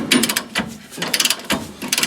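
Ratcheting bursts from a deep socket tightening helper spring bolts under a 1992 Ford F-150, close by, in three or four quick clicking runs separated by brief pauses, near the muffler tailpipe.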